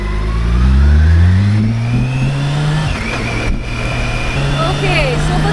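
A 1600cc motorcycle engine revs hard and loud up close, pitch climbing in rising sweeps before dropping and settling, then revving again, with strong mechanical roar throughout.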